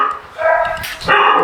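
Dogs bark and yip loudly and close by at a kennel in Carpi, several sharp overlapping barks in quick succession.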